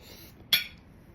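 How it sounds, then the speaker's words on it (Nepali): A spoon clinks once against a dish while scooping food during a spicy mukbang meal, a single short quiet metallic tap in a hushed room. "चम्चाले यस्तो गरेर डबल हाल्यो कि"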